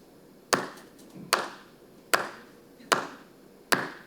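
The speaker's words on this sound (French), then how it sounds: "Moi, j'applaudis mon Dieu." Five sharp, evenly spaced single hand claps ring out in a church, each followed by a short reverberant tail, with quiet pauses in between.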